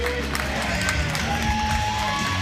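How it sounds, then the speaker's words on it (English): A snooker semi-final crowd chants a player's initials in loud rhythmic unison, many voices together in a large hall, steady and full throughout. "Just listen to the crowd. SVB, SVB."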